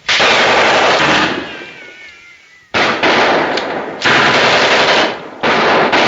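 A machine gun from a 1938 film fires in long, loud sustained bursts, four stretches of rapid fire split by short pauses, the first burst trailing off into quieter rattling before the gun opens up again.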